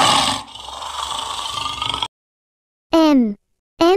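A lion roars in a children's alphabet animation, a loud, rough, sustained roar lasting about two seconds, followed after a silence by two brief tonal voice-like calls.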